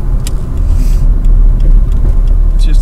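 A car over 22 years old with only 56,000 kilometres on it drives along steadily, with a loud low engine and road rumble throughout and a few faint higher clicks.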